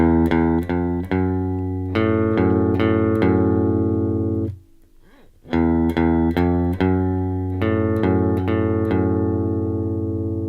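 Electric guitar plucks the repeating single-note riff of a song with a buzzy, effected tone, pausing briefly midway before the pattern resumes.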